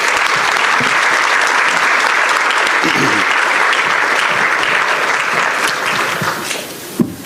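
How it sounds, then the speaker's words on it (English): Loud, dense audience applause at a judicial candidate forum, steady sustained clapping filling the room with a few sharper claps standing out before it tapers near the end. "Let's give them a round of applause."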